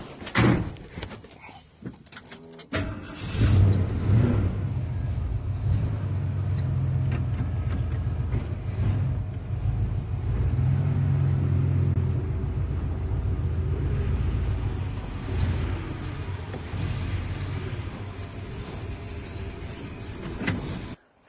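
A 1979 Ford Bronco engine runs steadily at idle after a few clunks at the start, a close, continuous low rumble with some rattling on top that carries on to the end.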